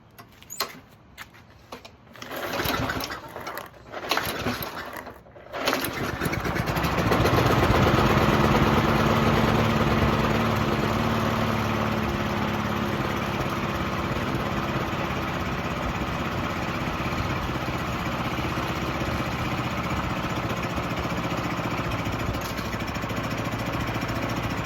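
A Craftsman 6.75HP lawn mower engine, after a few bumps and a pull, starts and settles into a loud, steady, high idle that drones on unbroken close by.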